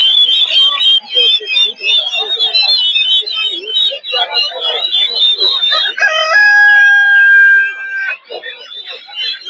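Kadaknath chickens at a poultry market in Narsingdi, Bangladesh, cluck and squawk loudly and continuously, with a rooster's drawn-out crow standing out partway through amid voices.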